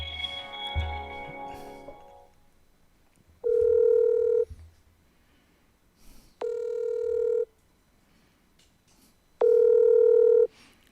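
Three separate electronic telephone tones, each steady and about a second long, as a phone call struggles to connect, sounding after a short stretch of muffled speech and handling noise.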